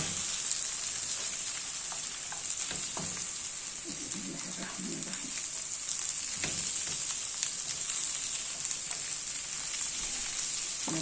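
Zucchini and green pepper sizzle steadily in a frying pan, a continuous crackling fry with occasional scraping stirs and soft clinks, close and alone with no talk.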